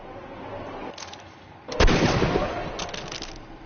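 A single loud gunshot from a Sherlock Holmes video game bursts out sharply after a quieter stretch of muffled voices and ambience, then fades into a rumbling tail.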